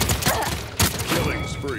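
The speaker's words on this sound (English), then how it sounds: "Enemies are firing on me." Enemy gunfire in Paladins, rapid bursts of shots and impacts close by, mixed with game effects and a voice talking over it.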